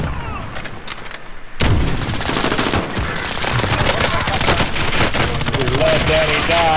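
Rapid automatic gunfire from a first-person shooter game bursts in loudly and keeps up as dense, continuous rattling over background battle noise.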